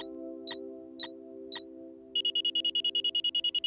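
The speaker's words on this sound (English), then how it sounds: "When the alarm sounds, that means it's time for a break." A cartoon break-reminder invention sounds off: three sharp clicks over a steady hum, then a rapid, loud run of repeated high electronic alarm beeps.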